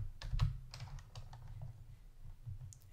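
Quiet, close keystrokes on a computer keyboard tap out a search in quick irregular bursts, soft clicks over a low hum.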